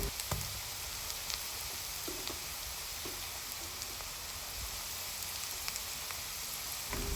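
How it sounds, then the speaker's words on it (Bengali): Chopped onions browning in a pan for a spicy chickpea curry, frying with a steady, even sizzle and a few faint scrapes and ticks from stirring, heard alone at a moderate level. "নেড়ে চেড়ে পেঁয়াজ যখন একটু ব্রাউন কালার হয়ে আসবে"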